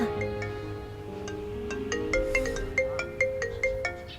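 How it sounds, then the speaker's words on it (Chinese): A mobile phone rings nearby with a bright melodic ringtone, repeating short beeping notes in a steady rhythm that grows a little louder as it goes on. "哎，电话。"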